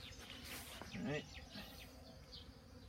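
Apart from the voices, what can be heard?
bee buzzing near a hive hole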